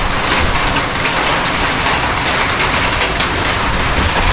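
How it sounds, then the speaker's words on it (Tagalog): Steady outdoor noise of light drizzle with strong wind on a farm, a dense continuous hiss and rush with no letup, loud and close, with no voices. "Umulan mga kabady pero hindi ganoon kalakas. Paambon-ambon lang. Malakas lang yung hangin."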